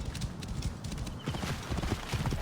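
Rhythmic hoofbeats of a horse galloping across ground in Assassin's Creed Origins near Lake Mariotis, steady and close throughout, with a brief whinny.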